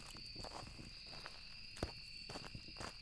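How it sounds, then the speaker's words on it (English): Crickets chirp in a steady, continuous high drone throughout a night scene in the ghost-hunting video game Phasmophobia, with faint footsteps and a brief knock in the background. "These crickets are so loud."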